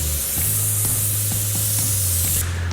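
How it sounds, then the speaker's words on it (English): A spray gun hisses steadily as it sprays adhesion promoter onto a carbon fibre car hood, a close, continuous airy spray with a low compressor-like hum beneath, cutting off briefly at the end. "I just put it straight into the spray gun and spray it on the job"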